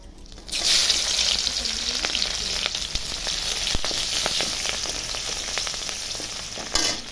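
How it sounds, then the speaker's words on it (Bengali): White cumin seeds and sliced onion fry in hot oil in a pan, producing a steady close sizzle with scattered crackles and pops that carry on throughout. "জিরাটা একটু ভাজা ভাজা হয়ে আসলে একটা দুটো পেঁয়াজ কেটে আমি দিয়ে দিচ্ছি"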